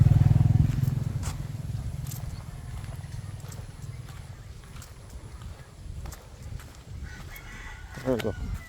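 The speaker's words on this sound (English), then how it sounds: "You've got a lot of chickens." A rooster crows once at the start, followed by scattered clucking and faint rustling, with a few sharp clip-clop taps in the background.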